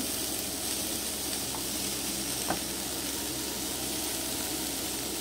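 Bean sprouts stirred and fried in a pan make a constant close sizzle with one brief utensil knock midway and no talking.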